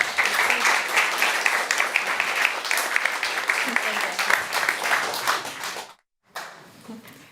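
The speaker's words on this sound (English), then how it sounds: "Can I have a warm applause for Dimitra Kolliakou?" A literature-night audience applauds an author, with dense, lively clapping close and loud for about six seconds, then a sudden silence before a quieter patch of sound resumes.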